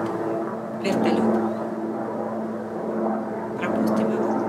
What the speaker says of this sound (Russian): у нас летит вертолет